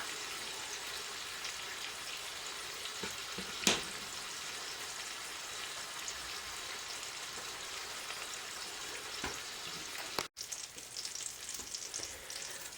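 Sausage frying in a pan at breakfast, a faint, steady crackling sizzle with a couple of brief sharp clicks, with no voices.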